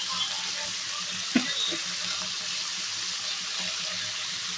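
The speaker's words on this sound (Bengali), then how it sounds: "ফুলকপি, শিম, আলু ভাজা করছি।" Cauliflower, beans and potatoes frying in a pan in a home kitchen, giving a steady, close sizzle with one brief louder clatter near the start.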